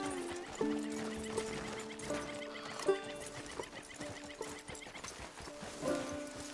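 A horse in the Red Dead Redemption 2 video game whinnies several times in long, wavering calls. Hooves clip-clop softly underneath, close and fairly quiet.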